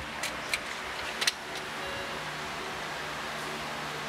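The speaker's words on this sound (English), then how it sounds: "I heard the fuel pump come on. I heard something click up there." A few sharp clicks from a car's engine bay near the start, then a faint steady whine of the fuel pump running under a hiss of background noise.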